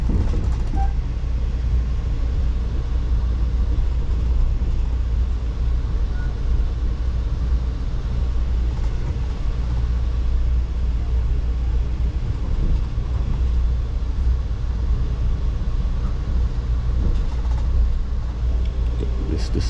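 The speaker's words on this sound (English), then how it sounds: "Train is moving out the station right now." A loud, continuous low rumble of an Amtrak train departing Miami station, rolling along the tracks with steady mechanical droning and no voices.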